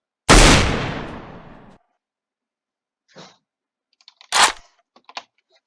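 Gunfire in a Fortnite-style Roblox game: one loud blast rings out and decays, followed after a pause by faint clicks and a second sharp shot, with quieter scattered bits after it.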